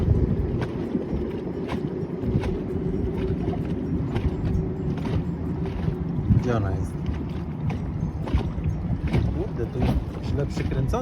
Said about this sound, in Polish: czy ja będę miał nagrane motorówkę jak idzie ślizgiem w kierunku Gryfina